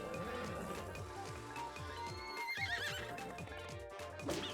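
Horse neighing in the Miitopia video game, a clear whinny over clip-clop hoofbeats and a steady game soundtrack, with a second higher call near the end.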